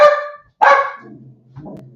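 Dogs barking indoors in a house, two loud close barks with a pause between, followed by lower growly vocal noise.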